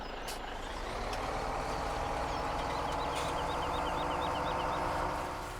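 A truck in the Farming Simulator 17 video game hums steadily through a soybean harvest scene, its engine drone constant and moderately loud, with a series of short repeated beeps like reversing alerts in the middle.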